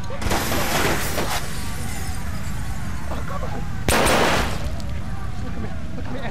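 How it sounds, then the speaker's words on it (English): Handgun gunfire in the Watch Dogs video game, with broadband shot bursts near 0.3 and 1 second and a louder one near 4 seconds over a dense, steady game soundscape, with talk present. "the handgun there took out the enemy in a couple of shots"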